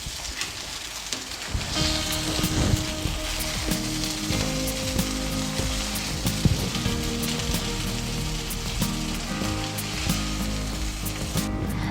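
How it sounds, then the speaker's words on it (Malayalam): Sindhi chicken biryani being mixed in a pot, with a steady sizzle and frying crackle, light scraping and stirring knocks, and no talk. "ഇനി നമുക്കിത് നന്നായി മിക്സ് ചെയ്യാം."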